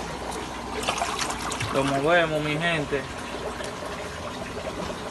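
Water is poured into a salt bath for a goldfish being treated for fungus, a thin trickle and splash under someone speaking Spanish throughout.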